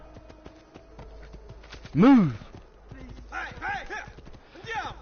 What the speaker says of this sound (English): get on the damn horse